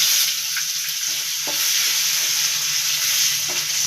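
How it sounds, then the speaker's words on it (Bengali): Garlic sizzles in oil in a pan for a Bengali small-fish curry, a constant bright frying hiss with a few soft stirring scrapes, close up and without speech. "রসুনটা লাল লাল ভাজা হয়ে গেছে"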